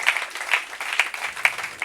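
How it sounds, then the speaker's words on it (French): A group clapping along in a steady, even rhythm, a few sharp claps per second, moderately close with a reverberant room feel. "Give the Lord a mighty clap"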